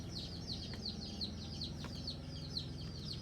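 Several chickens cluck and chirp in a steady, close chatter, with a low background hum underneath.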